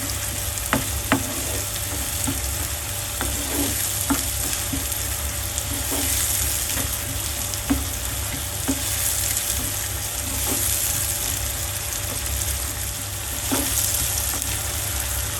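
Onions fry in a pan with a continuous sizzle while a spoon stirs them, giving repeated light clinks and scrapes at irregular intervals, close and steady.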